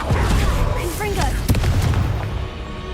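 A spell blast goes off with a deep boom partway through, set among magical whooshes and game effects in the Hogwarts Legacy video game, with a voice talking over the action.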